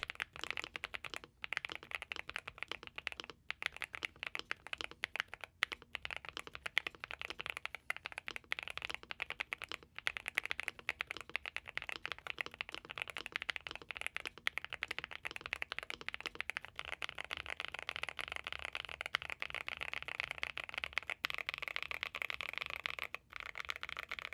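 Fast, continuous typing on a Nuphy Halo75 V2 mechanical keyboard fitted with sound-dampening foams gives soft, dense keystroke clicks with occasional sharper clacks, quiet and close, with no voices.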